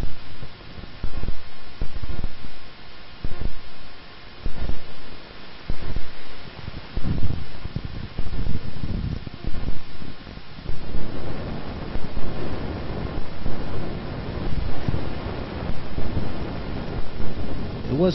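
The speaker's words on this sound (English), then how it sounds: "It was quite windy on that day" Strong wind buffets the microphone, a rumbling, gusting roar that swells and fades throughout without a break.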